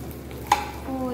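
Poppy seed fritters (posto bora) fry in a small amount of oil in a pan over raised heat, giving a steady soft sizzle with one brief clink near the middle.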